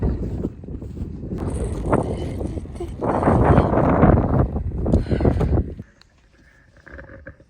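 Gusty outdoor wind on a winter day during Mongolia's Tsagaan Sar lunar new year holiday, roaring and buffeting the microphone in loud, uneven surges that fade to a quieter rustle near the end.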